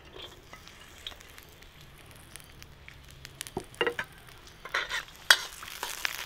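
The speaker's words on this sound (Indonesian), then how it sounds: "pertama sekali kita tumis bawang merahnya" Shallots sautéing in a pan, a soft steady sizzle close by, with scattered stirring scrapes that grow busier toward the end.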